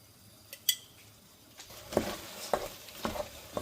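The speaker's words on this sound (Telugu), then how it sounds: "దీంట్లో ginger garlic paste masala add చేసుకొని మంచిగా ఫ్రై చేసుకోవాలి" Haleem mix frying in ghee with ginger garlic paste, a steady sizzle with repeated scraping and clinking stir strokes of a utensil against the pot, close and moderately loud, with no talking.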